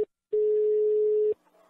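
A single steady telephone line tone sounds alone for about a second after a short blip, followed by a quieter click and line noise as a call is placed.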